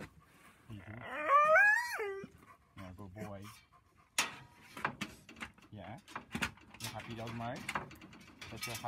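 A former fighting dog pants and whines with excited vocal sounds while meeting other dogs, mixed with clicking and rattling noises and someone talking nearby.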